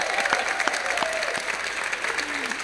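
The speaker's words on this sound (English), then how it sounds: "Let's give a round of applause for our accompanist, Patty Lazars." A church audience at a benefit concert claps for its piano accompanist, a continuous wash of applause with a few louder individual claps and faint cheering voices mixed in.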